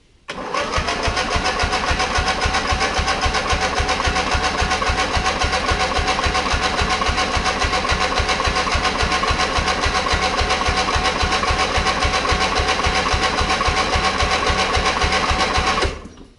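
A small engine is cranked at full throttle, then catches and runs loud and steady with a fast, even mechanical chatter, close up and alone for about fifteen seconds before cutting off.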